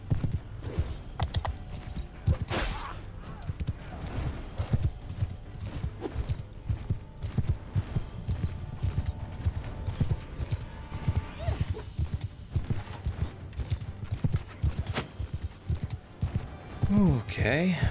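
Horse hooves clip-clop in a medieval battle scene in the video game Mount & Blade II: Bannerlord, a steady rapid stream of hoofbeats throughout, mixed with game sounds and a brief neigh near the end, with someone talking over it.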